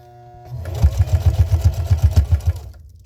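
A sewing machine stitches straight across a washable kitchen sponge, starting after a brief pause and running as a fast, even mechanical clatter for about two seconds before stopping.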